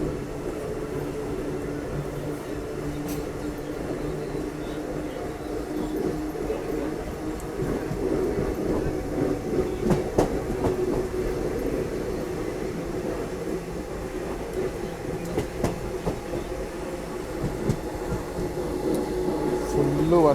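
Train running on rails through Maharashtra during a rail journey from Hyderabad to Rajasthan in heavy rain, a steady, continuous low rumble and rattle of the moving carriage, fairly close and unbroken throughout.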